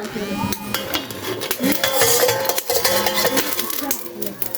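Plates and dishes clatter and clink up close in a busy run of sharp knocks and scrapes that lasts several seconds, with faint voices in the background.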